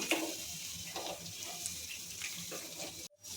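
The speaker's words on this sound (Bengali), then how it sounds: "আর একটু সময় নিয়ে ভালো করে ভেজে নেব।" Fritters of drumstick flowers and lentil batter sizzle in hot oil in a pan, a steady close crackling hiss with no talking.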